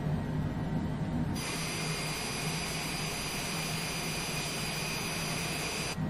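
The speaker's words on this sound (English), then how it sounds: "Start engine 1. Engaging starter 1." A jet engine starting on a Longitude business jet in a flight simulator game: a steady low rumble jumps into a loud whining rise with high tonal hum that holds evenly, then the whine cuts off near the end.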